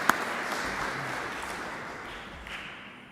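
An audience at the Green Solutions Awards 2020-21 ceremony applauds, producing a soft, steady wash of clapping that fades slightly toward the end and carries no talk over it.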